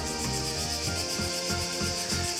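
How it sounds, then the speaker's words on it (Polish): Cicadas give a dense, continuous shrill buzz with a faint pulsing rhythm in an olive grove in Dalmatia, a steady wash of insect song heard alone. "Czy może być coś bardziej dalmatyńskiego niż dźwięk cykad w gaju oliwnym?"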